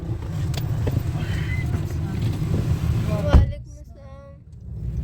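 Steady low rumble inside a moving car, road and engine noise under a brief spoken greeting, followed by a sharp thump and a quieter cabin with faint voices.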